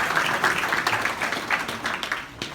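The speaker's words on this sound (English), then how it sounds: "if we could all give them a round of applause anyway," A crowd at a Boston Breakers team event applauds the club's sponsors, with dense, steady clapping that holds for a couple of seconds before easing off slightly at the end.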